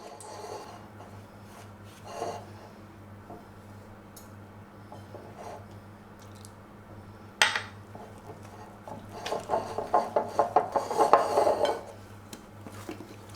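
A spoon stirs a batter of orange blossom water, vanilla and milk in a bowl, with scattered clinks and scrapes at first and then a quick run of rhythmic tapping strokes against the bowl near the end, close by and with no talking.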